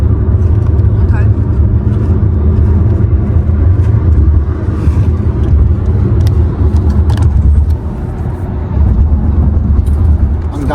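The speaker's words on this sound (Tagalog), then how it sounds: "Ang daming sasakyan." Heavy road traffic: many cars pass on a busy road in a continuous loud rumble of engines and tyres that swells and dips as vehicles go by, with people talking over it.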